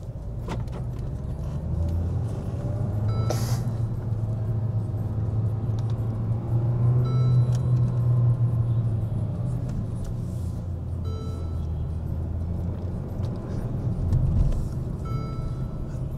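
A 2016 Mercedes-Benz CLA 200 coupe is on the move, giving a steady low engine and road rumble with small cabin clicks and rattles, and no voices.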